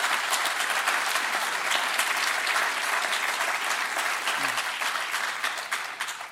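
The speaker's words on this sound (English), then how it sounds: "Give them a round of applause." Strong, sustained applause from a large audience at a State of the State and budget address in Dutchess County, saluting the state legislature; dense clapping that gradually tapers near the end.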